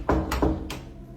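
Three sharp knocks on a door, quick and evenly spaced, close and fairly loud with a short ring after each, no talking.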